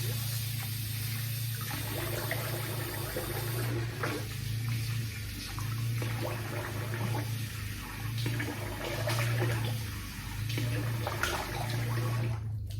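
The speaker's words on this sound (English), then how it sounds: "I'm gonna rinse the face here." Water from a running tap splashes steadily as a face is rinsed after a wet shave at a bathroom sink, quiet and continuous with intermittent splashing and a low hum underneath.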